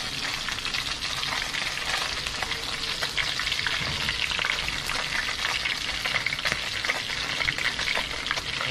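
Food sizzles steadily in a pan over an outdoor fire, with occasional stirring, a dense crackling frying sound that stays loud and continuous throughout.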